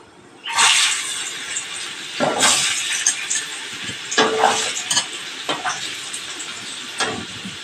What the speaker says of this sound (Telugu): ఇప్పుడు మనం ఫస్ట్ క్యారెట్ వేసేసుకుందాం